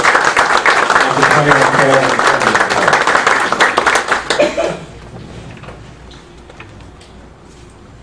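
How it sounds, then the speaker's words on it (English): Audience members at a Knights of Columbus regional district meeting in Central Florida give a dense, loud round of applause for about five seconds, with a voice heard over it, before it cuts off into quiet room tone. "So I'd like to have a round of applause for Council"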